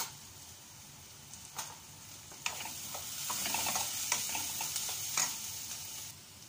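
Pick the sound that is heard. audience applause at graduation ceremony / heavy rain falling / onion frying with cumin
onion frying with cumin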